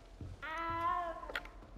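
A small cat meows once in a long, drawn-out cry in the Hogwarts Legacy game, clear and close, with faint background ambience before and after.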